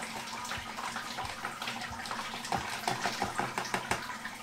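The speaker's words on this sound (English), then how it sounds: "seems to be draining pretty freely, probably because of all those rice hulls" Wort drains freely from a Grainfather brewing system mash basket packed with rice hulls, a steady splashing stream of liquid with a few sharper drips and clicks toward the end.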